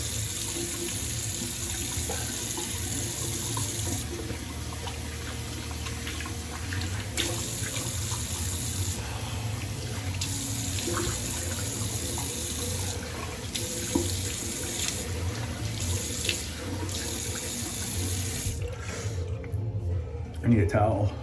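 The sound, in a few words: tap water running while rinsing face after shaving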